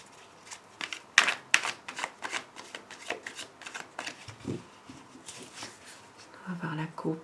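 A deck of tarot cards is shuffled and cut close by, giving rapid papery riffles and soft slaps in irregular bursts, with a voice speaking softly in places.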